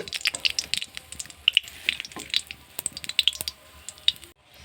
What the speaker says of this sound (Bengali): কড়ার মধ্যে আমি নিম পাতাটা দিয়ে দিয়েছি এটা ভাজা হয়ে গেছে